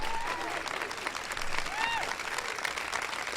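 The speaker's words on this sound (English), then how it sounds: "Give Tony a big round of applause." An audience at a presidential ceremony announcing the National Teacher of the Year applauds steadily throughout, while a voice speaks over the clapping.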